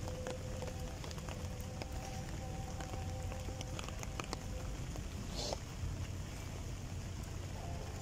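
Steady rain pattering down, with a constant hiss of drops and a low background rumble, no voices.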